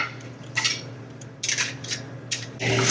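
Yogurt starter is whisked into milk in a pot, giving several short, bright metallic scraping and clinking strokes at irregular intervals over a low background hum, close and fairly loud, with no talk.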